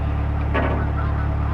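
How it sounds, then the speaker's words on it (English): Geese honk overhead, a brief burst of calls over steady low outdoor rumble, fairly close and loud. "some geese there just flying over"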